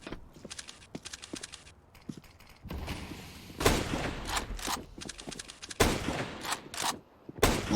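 Gunfire from a Counter-Strike match on the Nuke map comes in several separate sharp bursts, some rapid and loud, with quieter scuffling and footstep-like clatter between them.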